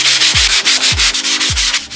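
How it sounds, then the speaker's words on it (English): A wooden dresser being sanded by hand with coarse 60 grit sandpaper: loud, close, steady rasping strokes back and forth in a regular rhythm, with no talking. "And here I'm going over it with 60 grit sandpaper"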